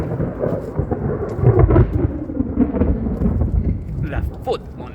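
Deep thunder from a lightning storm rumbles and rolls for several seconds, swelling loudest midway, with rain in the background and a person talking near the end.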